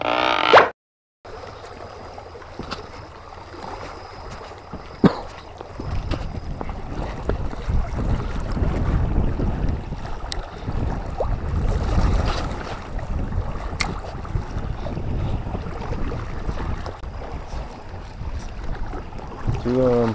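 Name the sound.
strong wind blowing while squid fishing at night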